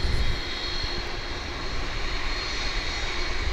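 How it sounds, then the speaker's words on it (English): Steady broadband roar of an MD-11 jet airliner passing at DFW International Airport, loud and continuous throughout without any voices. "And here comes another MD-11."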